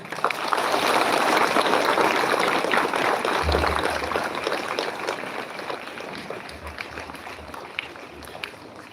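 At a school science fair, a large crowd applauds university toppers with loud, dense, continuous clapping that tapers off gradually, mixed with voices and cheering.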